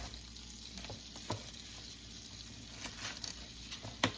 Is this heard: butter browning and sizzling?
yes